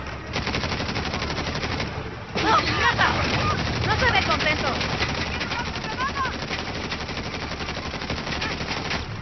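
Rapid bursts of automatic gunfire in the game Uncharted: The Lost Legacy rattle continuously over a dense background din, with a brief pause near the start before the shooting resumes.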